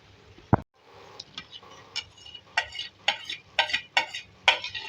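A spoon stirs a mixture of fried potato and eggplant in a pan for aloo baingan bhaji, producing a series of close, rhythmic scraping strokes over a faint sizzle after an initial sharp knock.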